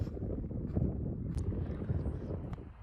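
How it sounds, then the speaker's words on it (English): Wind gusting across the clifftop at Blackgang and Gore Cliff on the Isle of Wight, a low, steady buffeting rumble with faint scattered knocks and no talking. "A bit breezy."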